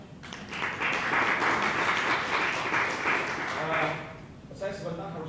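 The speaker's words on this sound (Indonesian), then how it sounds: "Tepuk tangan yang lebih baik." A church congregation breaks into sustained applause during a worship service, a dense burst of clapping lasting a few seconds before fading, with a voice speaking briefly afterward.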